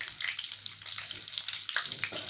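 Green chili and a little cumin sizzle in hot oil while a Hindi-style cabbage sabzi is cooked, giving a steady, close crackling fry with small pops throughout.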